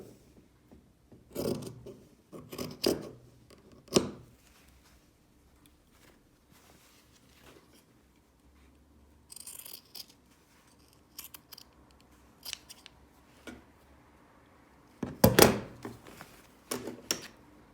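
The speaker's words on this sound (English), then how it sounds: "I always prefer to use my little embroidery scissors for trimming rather than my large fabric shears." Small embroidery scissors trim the corners of fabric for a Christmas bottle gift bag, giving crisp, close snips that come singly and in short clusters, separated by quiet pauses and light handling noises.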